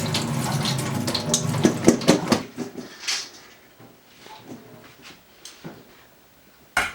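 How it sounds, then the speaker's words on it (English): Tap water runs into a sink as potatoes are rinsed, a loud splashing burst with knocks and clatter that fades to quiet drips and handling noises before a sharp clunk at the end. "I'm probably gonna go and rinse them and come back."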